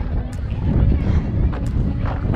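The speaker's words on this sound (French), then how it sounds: "maintenant, il y a du vent" Steady wind buffets the microphone throughout, a constant rushing roar outdoors at a trail running race in New Caledonia, with no clear voices.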